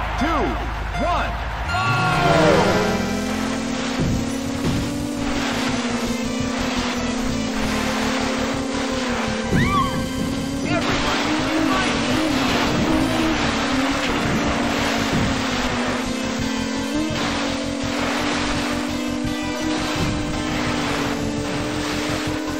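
Jet ski engines in Wave Race 64 on the Sunset Bay course drone steadily and rise in pitch as the race begins, with water splashing and slapping around them, while a game announcer speaks briefly.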